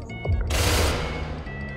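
Gunfire in the video game SCP Secret Laboratory: a loud, dense burst of rapid shots, close and harsh, lasting about half a second before dying into a ringing tail.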